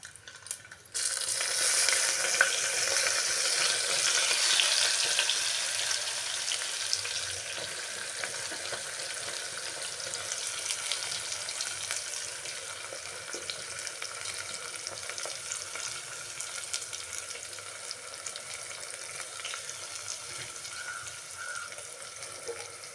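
Chopped onions and green chillies hit hot oil in a pan for egg curry and burst into a loud, steady sizzle that settles into a softer, continuous frying hiss, heard up close with no voices.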